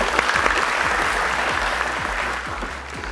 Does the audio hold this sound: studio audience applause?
yes